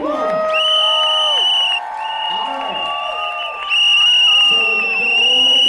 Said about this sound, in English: Let's give them a big cheer as you see them on the big screen.